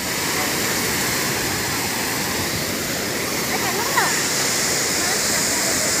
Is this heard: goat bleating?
no